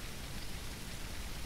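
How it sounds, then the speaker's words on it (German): Steady rain falling, an even, dense hiss of drops at moderate distance that carries on unbroken with no voices. "Es regnet."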